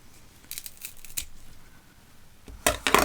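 Scissors snip through the small cord joining a snake plant pup to its mother plant, a few short crisp cuts, then a louder cluster of close snips and rustling at the end.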